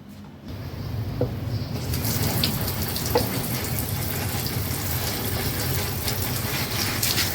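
Water running steadily from a tap for handwashing into a sink, a continuous splashing hiss starting after a brief pause, close and fairly loud with no talk.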